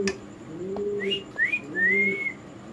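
Large jumbo-sized pigeons coo at a pigeon farm, giving low soft coos together with rising whistled calls. The calls overlap in a few short phrases, close and moderately loud, and no one speaks.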